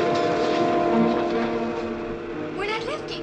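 A spaceship engine fires on test with a low, sustained droning hum of steady tones, easing slightly before a voice briefly comes in near the end.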